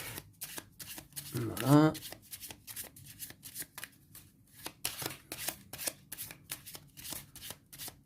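A deck of cards for the Riftforce board game is shuffled briskly in a rapid series of riffling flutters, close and fairly quiet, with someone speaking French briefly over the start.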